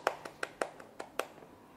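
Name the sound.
applause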